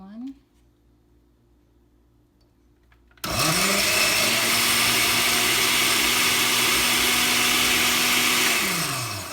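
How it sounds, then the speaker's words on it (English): A kitchen blender spins up and whirs steadily for several seconds, loud and close, as it purées barbecue sauce ingredients with sesame oil and regular oil for Korean-style pork, then winds down at the end. "We will now then blend this one."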